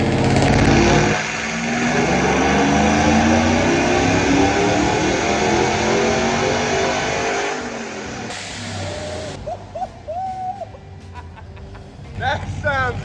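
A supercharged truck engine runs loud and steady for about eight seconds, likely bouncing off a rev limiter set at 3,500 RPM, then drops back to a rough idle while a voice speaks over it.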